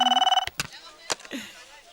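A telephone rings in a Hindi film scene, a rapid electronic trilling bell that stops abruptly, followed by brief sharp clatters and a short voice.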